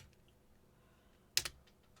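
A short burst of computer keyboard typing, a quick cluster of a few clicks and key presses, close and crisp against a very quiet background, no talk.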